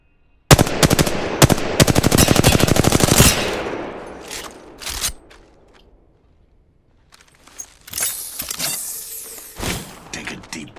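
Gunfire in the shooter Apex Legends: loud rapid automatic bursts in two long strings, then a few scattered single shots and clattering impacts after a short lull, with no talking.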